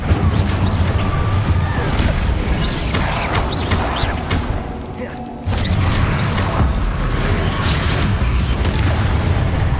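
Fire spells blast continuously in Hogwarts Legacy, a dense, loud roar of crackling whooshes and booms with a brief dip midway, then the barrage resumes; spoken voices sit under the din.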